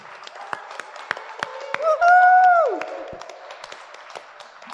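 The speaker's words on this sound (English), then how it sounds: "Big round of applause for Laxmi" Scattered claps ring out from a live show audience in Germany, punctuated by a brief whooping cheer in the middle, then sparse individual claps continue.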